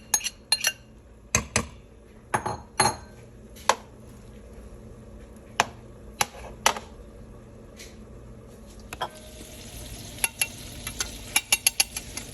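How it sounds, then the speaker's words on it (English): Eggs, onion and butter cook on a home hibachi-style griddle, with sharp metal spatula clanks and taps over a quiet sizzle that grows busier toward the end. No one speaks. "we're going to fry a couple eggs to put in this as well"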